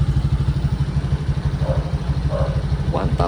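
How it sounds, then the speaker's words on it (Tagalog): A Honda Giorno scooter idles close by, its single-cylinder engine putting out a steady, rhythmic low chug throughout. The engine was converted from 125 to 160 cc. "Hindi tunog helicopter mga bossing,"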